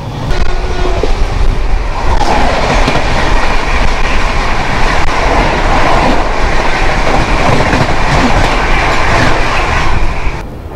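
The Punjab Mail express train, running from Firozpur Cantonment to CSMT Mumbai, passes close by in a loud, steady rush of wheels and carriages with rhythmic clickety-clack that holds for about ten seconds before easing slightly.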